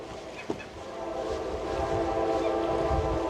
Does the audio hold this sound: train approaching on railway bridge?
yes